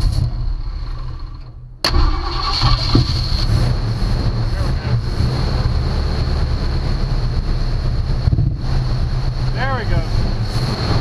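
A hot-wired 1965 Ford Mustang engine fires up abruptly about two seconds in, then runs at a steady, loud idle with an outdoor wind rumble beneath it.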